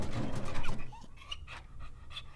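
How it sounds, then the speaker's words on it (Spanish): A dog pants in quick, rhythmic breaths close by, starting louder and then continuing as softer, steady huffs with no voices. "Perro travieso, lo has desordenado todo."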